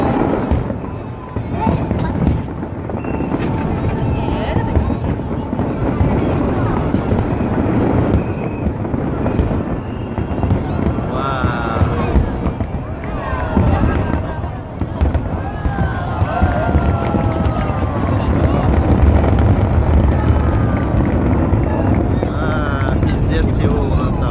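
Fireworks bursting at a fireworks festival in Seoul, a continuous loud roll of booms and crackles heard from a distance with wind buffeting the microphone and people talking throughout.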